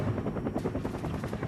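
Steady rhythmic thudding of a helicopter rotor in Vietnam War footage, a close, continuous chop with engine drone and no voices.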